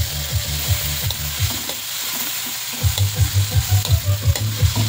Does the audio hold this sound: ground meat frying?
yes